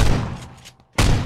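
Two loud, close gunshots in a shooter video game, one cracking at the start and another about a second later, each with a brief noisy decay and a short silence between.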